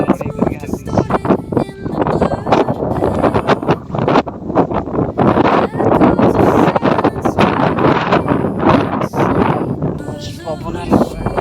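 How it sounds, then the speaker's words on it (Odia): Wind gusts across open farmland, buffeting the microphone in loud, rough, continuous rushes, with indistinct voices partly buried beneath. "ପବନ ହେଲା"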